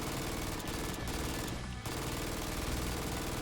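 An MG3 medium machine gun firing continuously in Fallout 4, a dense unbroken roar of rapid shots, loud and close, with only a brief dip partway through.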